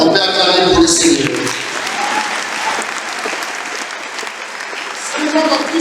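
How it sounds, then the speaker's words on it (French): A church congregation at the Mass for the feast of Saint Jean-Baptiste de la Salle breaks into loud, sustained applause that carries on throughout, with voices mixed into the crowd. "On peut acclamer pour le Seigneur."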